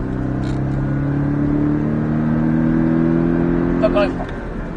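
Porsche Cayman S engine accelerating on track, a steady rising drone heard from inside the car, with an instructor talking over it and a brief clatter near the end.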